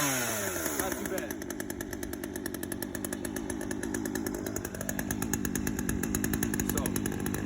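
A chainsaw engine running just after starting, loud and close with a steady high-pitched buzz that settles and shifts in pitch as the throttle changes, a voice faintly underneath.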